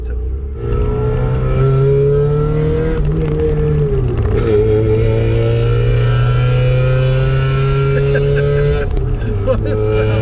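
A Mazda Eunos engine, already warmed up, revs hard as the car accelerates, a loud rising drone that dips briefly at a gear change and then climbs again.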